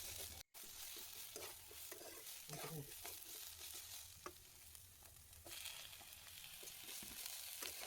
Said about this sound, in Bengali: বিনসটা দিয়ে কিছুক্ষণ নাড়াচাড়া করার পরে দিয়ে দিচ্ছি গাজর এবং ফুলকপি।